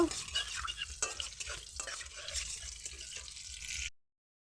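Bay leaves and cumin seeds fry in oil in a wok, a close crackling sizzle broken by stirring clatters and splashy scrapes before the sound cuts off abruptly.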